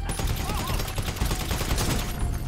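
Dense gunfire rattles through a GTA 5 shootout, continuous overlapping shots and bursts forming a loud, busy barrage.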